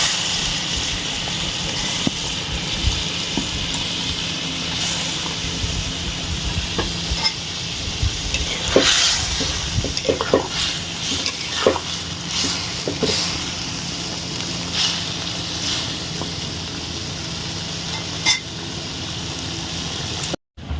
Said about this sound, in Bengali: এবার আমি মাছগুলো সব দিয়ে দিচ্ছি।